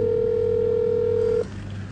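Steady telephone dial tone on an unanswered call, a single continuous hum with a low undertone that cuts off abruptly near the end, leaving faint line noise.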